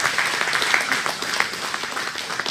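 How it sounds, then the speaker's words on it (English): A crowd at a midget racing Legends Day celebration applauds steadily, a dense wash of clapping holding at moderate volume for a couple of seconds with faint voices mixed in. "Let's give him a round of applause."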